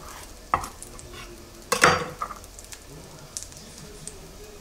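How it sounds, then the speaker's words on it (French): Gingerbread slices frying in butter in a pan give a quiet, soft sizzle, broken by a few clinks and scrapes of a utensil against the pan. "on va passer ces tranches de pain d'épices au beurre"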